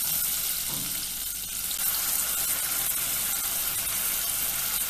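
Onion frying in a mix of extra virgin olive oil and butter, with chili flakes and pepper in the pan, gives a steady, dense sizzle that stays even and close for the whole stretch without any talk.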